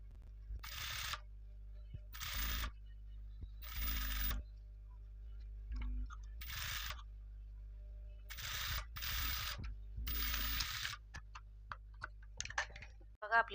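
A sewing machine stitches piping onto garment fabric in short motorized bursts, about seven close whirring runs of roughly half a second to a second each, separated by quiet pauses, no talking.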